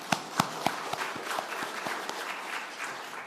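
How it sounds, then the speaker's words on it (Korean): Church congregation applauding during a Sunday worship service, scattered individual claps standing out at first before settling into a thin, steady patter of clapping that carries on to the end. "우리 박수 한번 해주시기 바랍니다."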